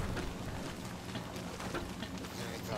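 Rain in the video game Don't Starve Together patters steadily on the ground, a soft, even hiss with scattered drops, heard on its own without talk.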